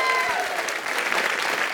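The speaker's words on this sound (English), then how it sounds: "A round of applause." A crowd at an empanada tasting showdown breaks into loud, close applause, a dense burst of clapping with a few excited voices over it.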